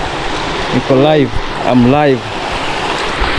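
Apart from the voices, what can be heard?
flowing river at the river banks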